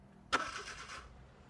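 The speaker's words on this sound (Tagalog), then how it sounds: "So, start natin yung makina natin." A minivan engine cold-starts with a quick starter crank, then catches into a steady idle, fairly quiet and close.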